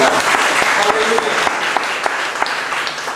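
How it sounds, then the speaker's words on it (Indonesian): A church congregation claps together in praise, a dense, fairly loud wash of applause with a few sharper individual claps standing out, running steadily for a few seconds. "Tepuk tangan bagi Tuhan"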